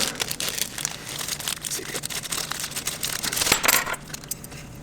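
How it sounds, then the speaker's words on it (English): Plastic bags crinkle and rustle while a multimeter and its temperature probe are unboxed, producing close, irregular crackling with a sharper rattle near the end. "You got one plastic bag with a temperature probe."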